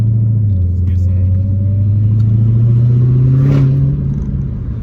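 A 2016 Dodge Challenger Hellcat with a mid muffler delete gives a loud, close, continuous deep exhaust drone that climbs steadily in pitch as it revs, then eases off near the end.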